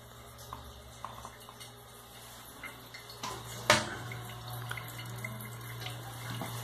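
Water running and splashing into a toilet tank while a new flush fitting is installed, a steady close trickle with a low constant hum and a brief louder splash midway.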